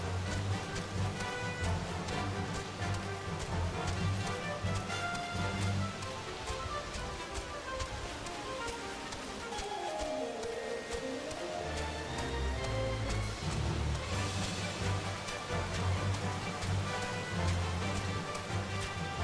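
Steady rain in the video game Love and Deepspace, a dense continuous patter with game music or tones layered over it, constant and fairly loud throughout.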